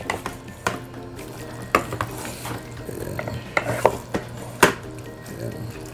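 Beef pares is stirred in a metal cooking pot, giving irregular scraping clinks and knocks of a utensil against the pot. A couple of sharper knocks stand out over a low steady background hum, and no one speaks.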